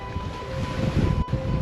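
Strong gusting wind, around 30 knots, over waves at sea aboard a sailboat: a dense, loud, steady roar of wind noise and rushing water, with a brief dropout near the end.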